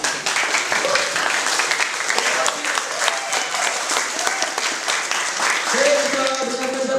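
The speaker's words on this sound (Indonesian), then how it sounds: "Silakan berikan tepuk tangan." Audience applause at a school OSIS and MPK student organisation event in Singkawang, a steady dense wash of many hands clapping for the full stretch, with voices and a faint tone rising through it near the end.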